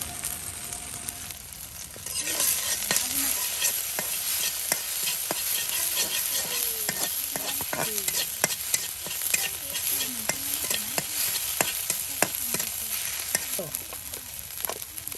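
Garlic, onion, ginger and cumin fry in oil while being stirred. After a quiet first two seconds, a loud continuous sizzle starts, broken by repeated sharp spatula scrapes in an uneven rhythm, with no talking.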